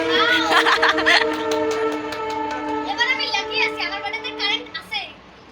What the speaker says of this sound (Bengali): ট্রেনও যাচ্ছে একবারে